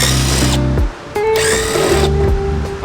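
A power tool whines loudly up close while removing the rear fenders from a crashed Nissan S15, running in bursts with a short pause near the middle.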